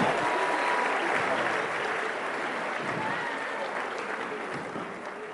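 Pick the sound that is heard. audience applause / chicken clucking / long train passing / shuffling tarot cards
audience applause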